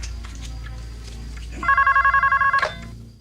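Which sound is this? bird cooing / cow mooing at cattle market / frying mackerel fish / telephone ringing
telephone ringing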